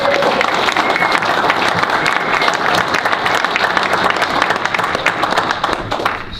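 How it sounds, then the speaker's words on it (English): Audience applause during a wrestling storytelling session, steady and full clapping from a sizable crowd that holds throughout without letting up. "So I'd like to have some applause for that."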